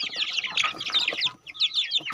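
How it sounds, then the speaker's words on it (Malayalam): Kappiri breed chickens cluck and chatter close by, a busy series of short, bright clucks in quick bursts with a brief pause before more calls. "നമ്മുടെ കാപ്പിരിക്കോഴി"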